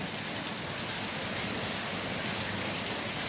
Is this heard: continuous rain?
yes